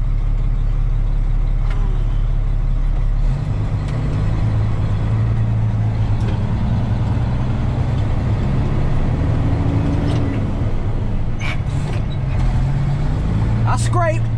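A truck engine rumbles and shifts in pitch as the vehicle pulls up during a corn harvest, a continuous close drone with a few sharp clicks, under people talking.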